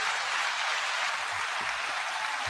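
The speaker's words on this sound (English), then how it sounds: "9-second applause to you all." A steady, dense wash of many hands clapping in sustained applause, even in level and continuous throughout.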